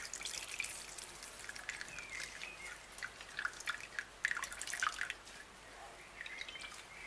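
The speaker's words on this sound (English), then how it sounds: "So what I'm going to do now is squeeze so that we can take out some water or excess water." Water drips and trickles from grated cassava squeezed in cheesecloth, a close, quiet run of irregular patters and small splashes that rises and falls over several seconds without any talk.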